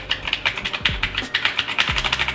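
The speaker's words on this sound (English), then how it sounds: "This keyboard is great for a couple reasons. First of all, the noise that it makes when you click it." Rapid clicking of keys on a backlit computer keyboard, a close, crisp run of evenly spaced taps with a few heavier thumps, heard alone.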